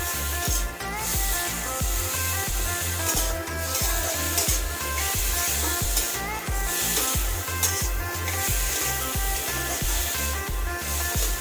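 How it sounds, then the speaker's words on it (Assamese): Tomatoes for momo chutney frying in a pan, with a soft continuous sizzle broken by regular rhythmic scrapes of a spatula stirring, fairly quiet and close. "বিলাহীখিনি গেলি নোযোৱালৈকে ভাজি থাকিব লাগিব।"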